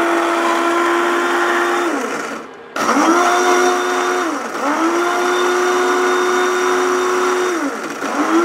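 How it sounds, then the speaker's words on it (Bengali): Pomegranate blending in a kitchen blender: a loud, steady motor whine that cuts out briefly, restarts, and dips in pitch a few times as the load shifts, with no talking. "ডালিমটা ব্লেন্ড করে তারপরে আমি"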